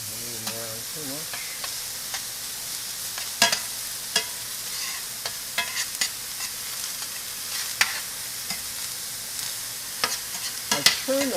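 Onions sizzle and fry on a Chantal stainless griddle over an induction range, a steady hiss punctuated by sharp clicks and scrapes of stirring, close up.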